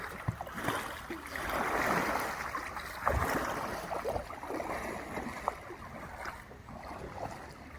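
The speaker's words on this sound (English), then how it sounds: "So, for example, a backstroke turns me very quickly." A kayak paddle pulling a backstroke through river water, soft splashes and swirling water up close over a wash of outdoor ambience and light wind.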